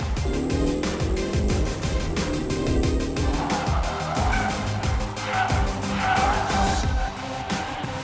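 A race car corners hard at the Willow Springs track, its engine rising and falling with repeated gear-change patterns while the tires squeal, loud and close throughout with some faint talk underneath.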